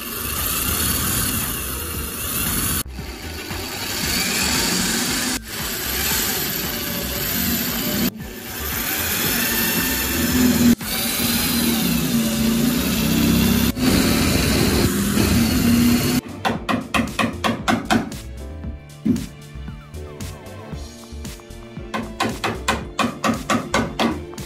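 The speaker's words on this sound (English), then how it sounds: "we're just gonna drill him out." Drill boring out spot welds on an Audi Quattro S1 replica steel body: a loud, steady grinding whir in long bursts broken by brief stops, then a run of rapid, choppy short pulses near the end.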